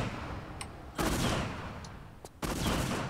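Gunfire in Tomb Raider 3 aimed at Lara in the City level: two loud, broad bursts of shots, each running for over a second, separated by a quieter gap with a few faint sharp clicks.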